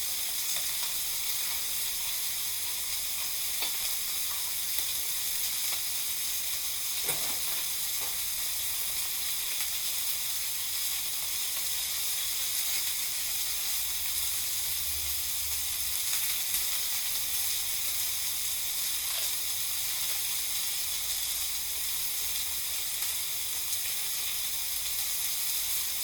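Chicken browns in a frying pan with a steady, dense sizzle and hiss that runs throughout, with a few faint clicks of utensils and no talking.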